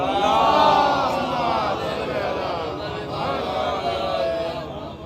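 A large crowd chants slogans together at a 13 Rajab religious gathering in Katghar, a dense, sustained mass of voices that stays loud and fairly even, swelling slightly at the start.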